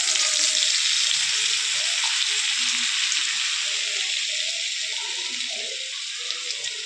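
Half a spoon of oil with butter heats in a kadhai on a gas stove for egg roll stuffing, making a steady, even frying sizzle that holds for several seconds, moderately loud with no talking.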